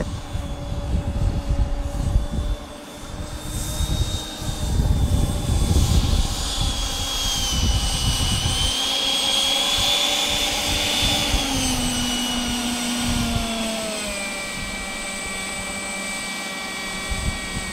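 A model Hawker Hunter, a 1950s jet, passes overhead with a loud, steady ducted-fan whine that rises and falls in pitch as it flies by, with rough gusty rumble early and no talking.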